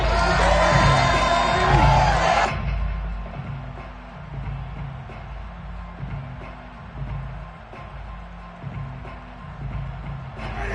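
A home crowd at a football game roars and cheers, loud and dense at first before dropping abruptly to a lower murmur of stadium noise with scattered shouts.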